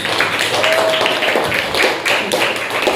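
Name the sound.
classroom applause for a student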